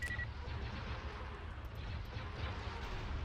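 Starship cannons firing in the space strategy game Empire At War Remake, heard as a faint, steady rumbling barrage with scattered soft bursts and no talk.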